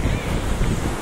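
Sea waves at Gokarna beach in North Karnataka, a continuous broadband wash of surf mixed with gusty wind noise on the microphone, fairly loud and close.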